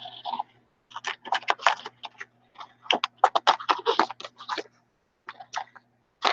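Scissors snip through paper in a quick series of crisp, close cuts, with short pauses between clusters of snips; the dull scissors fail to cut at the tips.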